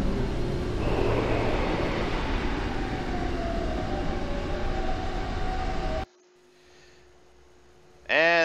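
Tram ride in the 1997 Final Fantasy 7 video game, a loud steady rumble of rails and machinery with a rising whine that cuts off abruptly, then a short quiet tone and a sharp electronic sweep.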